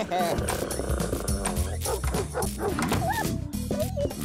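A dog barks repeatedly in the video game Sąsiedzi z Piekła Rodem, sharp yaps and whimpers set against the game's music and other effects, fairly loud and close.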